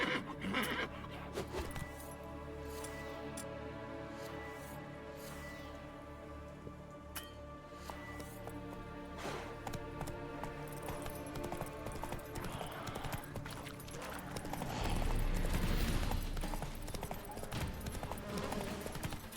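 Roach, the horse in The Witcher 3, gallops with rapid rhythmic hoofbeats that run continuously and grow heavier near the end, mixed with game ambience and occasional snorts.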